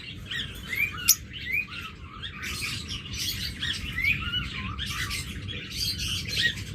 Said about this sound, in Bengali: একদম টপ মার্কিংয়ের পাখি, এখানে একটা রেড আই একটা ব্ল্যাক আই, নিউ অ্যাডাল্ট জোড়াটা।